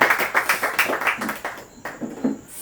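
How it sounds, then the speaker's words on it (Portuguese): A church congregation claps in a quick, steady rhythm during a worship service, with sharp hand claps repeating at an even pace and some reverberant room sound. "Bate palmas para Jesus de igreja do céu."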